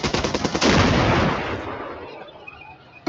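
Gunfire in the wargame Armored Brigade 2, rapid automatic bursts rattling loudly in quick succession before trailing into a fading rumble, then a final short shot, no voices.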